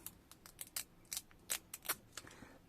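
Scissors snipping paper embellishments, a quick irregular series of about a dozen crisp close cuts, quiet and with no talking.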